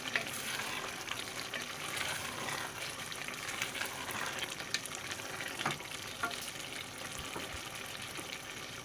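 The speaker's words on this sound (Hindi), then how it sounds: "अब इसको हम पकाएंगे ताकि पानी इसका खुश्क हो जाए" Black chickpeas with spices and added water cooking in a pan, a continuous close sizzle and bubbling fry with occasional stirring clicks, steady and moderately quiet with no voices.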